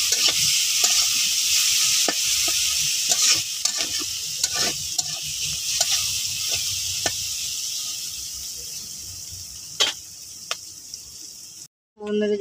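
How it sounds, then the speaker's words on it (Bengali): Onions with green chillies fry in a pan, sizzling steadily and close while a utensil scrapes and clicks in repeated stirring strokes, ending in a brief cut to silence. "অন্যদিকে পেঁয়াজটা ভাজা ভাজা হয়ে গেছে,"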